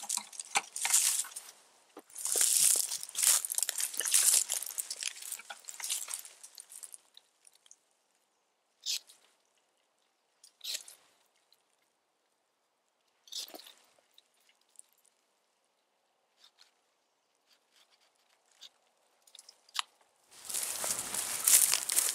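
A stick being cut to length for a walking stick: several seconds of rough, rasping, crackling cutting, then sparse scattered snaps and clicks, and a final burst of cutting noise at the end.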